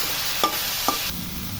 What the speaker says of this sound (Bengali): এই যে সবজিটা একটু ঢেকে দিয়েছি, ভালোভাবে ভেজে নেব। এখন একটু নাড়াচাড়া দিয়ে দিচ্ছি